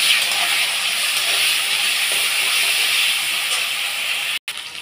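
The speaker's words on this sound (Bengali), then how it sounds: "দিয়ে আমি এর মধ্যেই আলুগুলোও ছেড়ে দেবো। আলুগুলোকে আমি একটু ভাজা ভাজা করব।" Potatoes frying in hot oil with bay leaves for a Bengali coconut and potato curry, a steady loud hiss that runs unbroken, then drops out briefly near the end.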